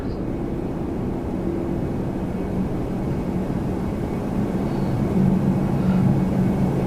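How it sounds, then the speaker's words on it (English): A Challenger 650 business jet landing at Toronto Pearson sends a steady, distant engine rumble that swells slightly near the end, with no talking. "There's a landing coming in on this runway. Challenger 650."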